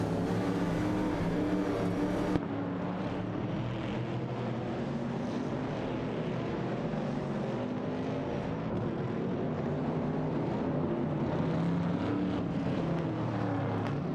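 Race cars roar along a track in a virtual racing video game, including a Chevrolet Camaro and a Plymouth Barracuda, with a dense, continuous engine drone that holds steady throughout.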